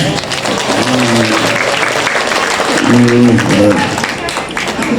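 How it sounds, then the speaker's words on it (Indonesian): An audience at a comedic Islamic sermon breaks into applause in two short bursts of clapping, close and fairly loud, with a speaking voice running through the clip. "Mana tepuk tangannya?"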